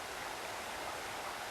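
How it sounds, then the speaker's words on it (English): Steady broadband rush of Price Falls, a waterfall close by in pitch darkness, filling the clip evenly and continuously with no voices or breaks. "These are the sounds of the rushing waters that I sleep right next to"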